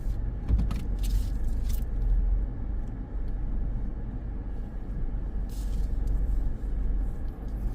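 A car rumbles at low speed while being parked at a seaside Corniche in Sharjah, a steady low engine and road drone with a few brief clicks and knocks, no talking.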